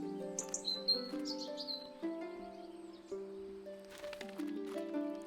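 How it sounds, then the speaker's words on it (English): A small bird in the video game Botany Manor chirps in quick high tweets and short trills over soft, sustained melodic game music, fairly faint, with no speech. "It's just a greedy little bird."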